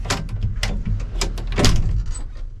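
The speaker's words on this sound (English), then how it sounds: "No more rattling of the door. Look at how easy that opens." The cab door of a John Deere 7520 tractor is opened and handled, giving a series of close clicks, latch clunks and rattling knocks.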